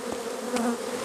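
Honey bees buzzing around an opened beehive just after a frame is tapped, a close, continuous hum with a couple of louder passes near the microphone.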